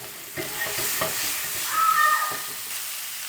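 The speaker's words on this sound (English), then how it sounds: "let's sear these meatballs" Meatballs sear in a hot pan with a steady, close sizzle and frying crackle, broken by a few stirring scrapes and clinks; no one speaks.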